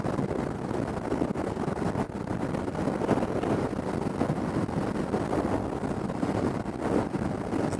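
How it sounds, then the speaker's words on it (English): Kawasaki ER-6f motorcycle cruising at speed on a motorway, heard as a dense, steady roar of wind buffeting the microphone over a low engine hum, loud and unbroken with no talk. "This is motorway driving."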